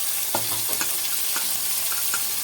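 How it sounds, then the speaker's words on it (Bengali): Chopped tomatoes hit hot oil with frying rupchanda fish, giving a steady close sizzle broken by a few soft stirring knocks, with no talking. "এবারে চিড়ে রেখেছি টমেটোগুলো, ওগুলো দিয়ে দেবো।"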